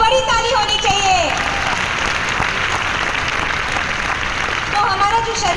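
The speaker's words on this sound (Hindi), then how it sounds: "कोम्बुचा के लिए बड़ी ताली होनी चाहिए" Audience applause fills the room, a dense sustained clapping that holds steady for several seconds, with a few faint whistles or tonal sounds rising at the start and near the end.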